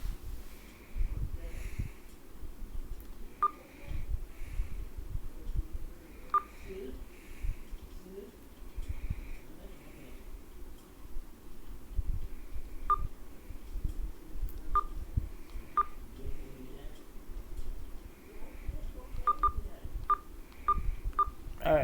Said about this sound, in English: Let's see if my dad's going to answer the phone now.